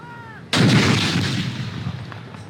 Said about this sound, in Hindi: वफाकी दारुल हुकूमत इस्लामाबाद में 31 और चारों सूबाई दारुल हुकूमतों में 21-21 तोपों की सलामी पेश की गई